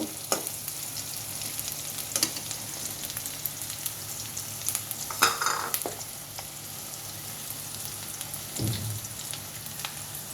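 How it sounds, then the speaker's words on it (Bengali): Dried fish (shutki) fries in a pan with a steady, close crackle and sizzle, broken by a few sharp clicks and clinks of a utensil. "একটু শুটকি রান্না করব আর ডাল করব"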